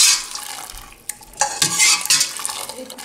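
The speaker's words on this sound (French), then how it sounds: "Alors je vais l'écumer comme ça avec un écumoire." Skimmer scraping and stirring through a pot of light Chinese chicken and shrimp soup, with close metallic clinks, liquid swishes and brief scrapes in irregular bursts.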